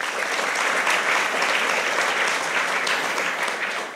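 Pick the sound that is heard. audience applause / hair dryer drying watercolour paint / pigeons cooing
audience applause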